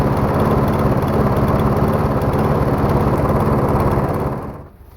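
Troy-Bilt lawn mower with a Briggs & Stratton engine runs steadily at reduced throttle, a loud, close, even drone that cuts off and fades out near the end.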